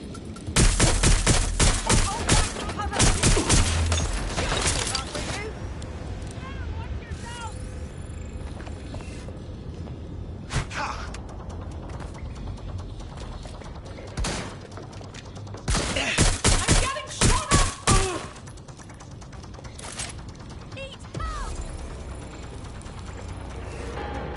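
Bursts of automatic gunfire from the video game Watch Dogs: Legion on PS5, loud and dense at first, then recurring in rapid clusters amid mechanical clatter, with occasional voices over the din.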